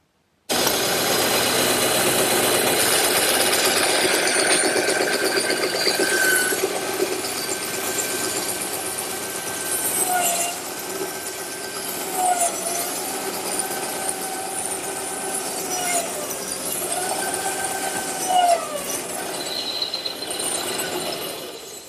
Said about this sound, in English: I think I'll cut them over on the bandsaw